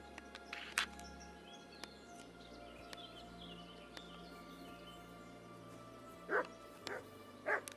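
A dog in Kingdom Come: Deliverance 2 gives a few short, sharp barks and yips, scattered over a quiet, steady game-world background hum with faint other sounds.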